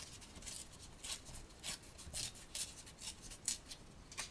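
Scissors trimming paper for a craft project, a quiet run of short rhythmic snips and rustles repeating close by, faint and without talk.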